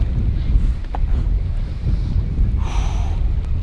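Wind buffets the microphone on a fishing boat drifting across a lake, a loud steady low rumble with faint water lapping and no voices.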